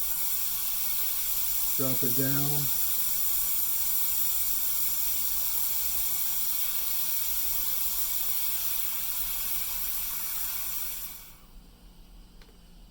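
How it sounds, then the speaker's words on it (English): Steam bleeding off a boiler in a continuous broadband hiss that holds steady and loud for about eleven seconds, then cuts off abruptly into quiet; someone speaks briefly near the start over the hiss. "I'm going to bleed off a little bit of steam"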